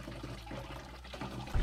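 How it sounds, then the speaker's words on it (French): Fresh spring water runs into a jerrycan in a steady gurgling, splashing stream, close and continuous, ending with a louder thump. "On va en profiter pour remplir les jerrycans à la Larbonne, elle est fraîche."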